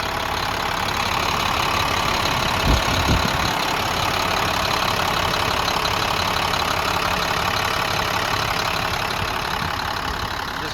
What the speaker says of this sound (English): It's the International Max Force DT Series